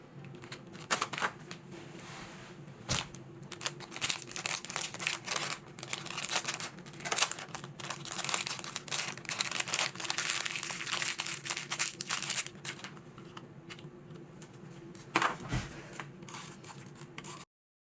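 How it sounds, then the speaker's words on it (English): Crinkly handling of a sheet of vintage paper being taped down for a scrapbook layout with washi tape, close-up rustles, taps and tearing sounds in irregular bursts, with no talking. "So this sheet of paper that I was just taping down"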